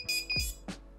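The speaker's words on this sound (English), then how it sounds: "I'm gonna double check my beeper." An iFlight Nazgul 5 FPV drone's beeper chirps a few short, sharp tones up close, quick electronic beeps in quiet surroundings.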